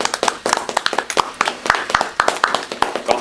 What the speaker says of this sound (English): Golf clap for Mary Jane.